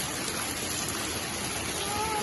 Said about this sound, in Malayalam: ഒക്കെ മഴവെള്ളം ഒലിക്കുകയാണ്